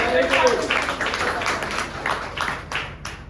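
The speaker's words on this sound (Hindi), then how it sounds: "अपनी टीम के लिए भी जोरदार तालियां" Applause for a team at a business seminar, a mid-level wash of clapping from the audience that holds steady and then breaks into a few separate louder claps toward the end.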